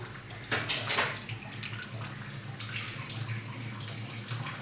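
Warm water poured into chapati flour dough in a home kitchen, a brief splashing pour near the start followed by softer trickling and faint background sounds.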